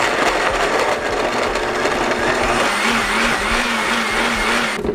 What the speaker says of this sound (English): Then I'm going to add a little bit of water to help my blender